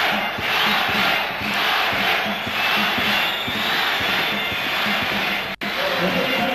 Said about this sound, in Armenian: լսենք ստադիոնը